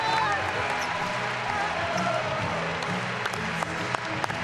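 Steady applause and crowd noise fill an arena of about 3,000 fans at a FIBA Women's EuroBasket 2021 game between Spain and Montenegro, with a commentator talking over the clapping and a few sharp claps standing out near the end.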